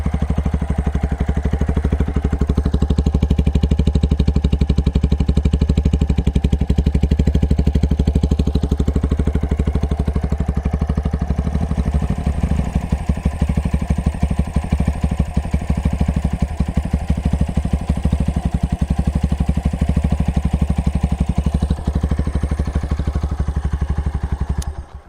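A Brixton Felsberg 125 motorcycle with a megaphone exhaust idles and revs, a loud, close, muffled pumping engine note with a steady rapid beat that holds for about twenty-five seconds before cutting off.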